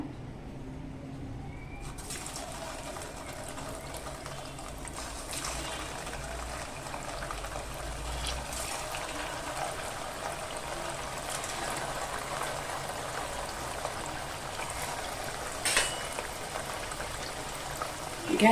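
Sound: vadas frying in hot oil

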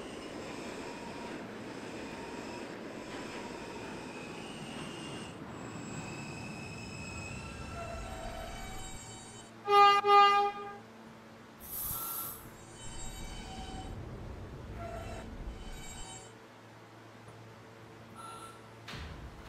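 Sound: N subway train running

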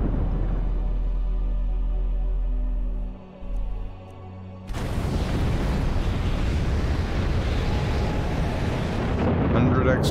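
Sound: fire ritual spell cast in video game Skyrim

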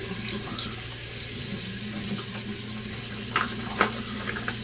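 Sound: water running from a tap while rinsing a shaving bowl

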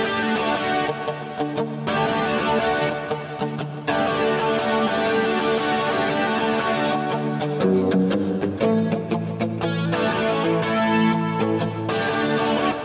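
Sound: electric guitar through Kemper amp playing riff

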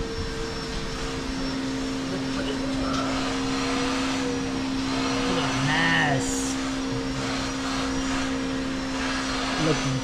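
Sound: vacuum cleaner running

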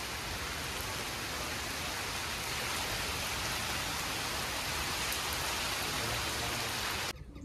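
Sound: heavy rain falling

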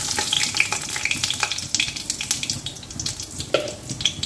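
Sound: dry red chillies and cumin seeds tempering in hot oil

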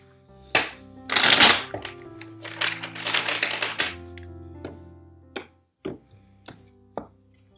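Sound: tarot cards being shuffled

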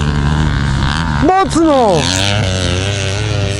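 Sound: Yamaha 250 motorcycle engine revving on a hill

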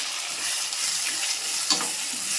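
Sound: onion and green chilli frying in a kadai for upma

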